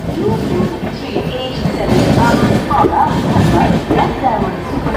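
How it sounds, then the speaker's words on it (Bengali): Black Diamond Express passing at Bandel Junction, a loud, continuous rumble and rattle of train cars rolling close by, with platform noise mixed in. "ওপাশ দিয়ে যাচ্ছে ব্ল্যাক ডায়মন্ড এক্সপ্রেস"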